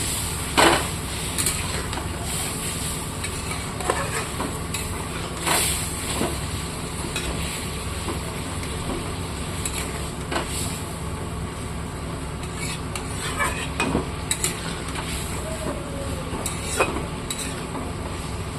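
Fish and a little water added to a hot pan for a dry fish dish, a steady broadband sizzle with scattered clicks and crackles, continuous and fairly close.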